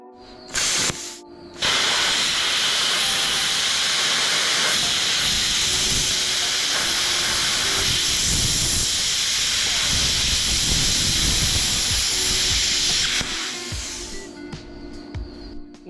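An oxy torch cuts through roughly 12 mm thick steel plate along a guide, making a loud, continuous roaring hiss that lasts about eleven seconds. It starts with a brief pop and ignition and tapers off at the end.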